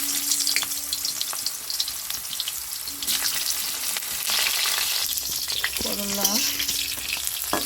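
Steady loud sizzling of bitter gourd frying in hot oil, with occasional stirring clatter and a faint tonal hum running underneath.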